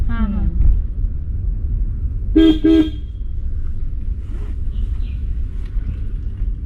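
A car pulls into a house compound, its low engine rumble steady throughout, with two short horn toots close together near the middle and a brief voice at the start.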